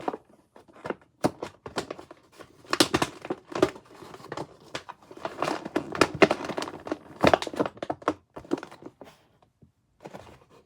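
Cardboard crinkles, scrapes and thumps in irregular bursts as a Sonic and Shadow toy figure box is pried and torn open up close.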